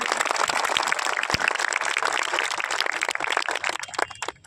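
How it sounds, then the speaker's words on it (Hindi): An audience applauds loudly before an event, a dense sustained roar of clapping for several seconds that thins out near the end. "एक बार जोरदार तालियां हो जाएंगी।"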